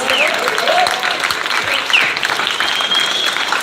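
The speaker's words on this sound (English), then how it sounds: "So make a round of applause for all the fighters" A crowd at an APFC 21 MMA weigh-in applauds the fighters with loud, sustained clapping, a few whistles cutting through, holding steady to the end.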